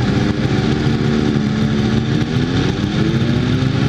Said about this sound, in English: I just want to test this darn bike out, you know?